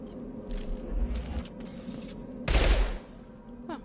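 Weapon fire in the Mass Effect 2 video game: a few short clattering bursts early on, then a louder, denser volley near the end before things settle into quieter ambience.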